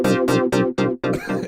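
Akai AX80 analog synthesizer played dry with no chorus or delay, a monophonic patch with the LFO tied to the keystrokes: four bright, harmonically rich notes in a steady rhythm, then a noisier sustained tone, loud and close.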